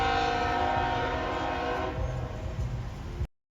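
A work train hauling a single gondola full of scrap rolls past close by, loud and steady, with a sustained horn tone over the rumble for the first two seconds before it fades to wheel noise.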